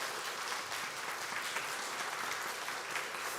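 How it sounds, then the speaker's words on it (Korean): A church congregation claps together during a Sunday worship service, a dense, steady wash of applause filling the room for the whole stretch without a break. "여러분 박수로 건강히 잘 다녀오라고 격려하겠습니다"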